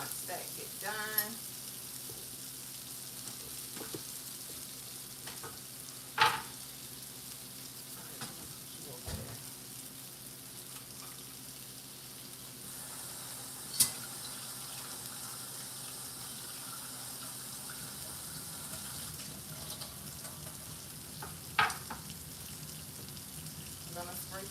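White sauce bubbling in a pan makes a steady, rain-like frying hiss, broken every few seconds by a brief clink of a spoon or utensil against the pan as it is stirred, with faint background voices.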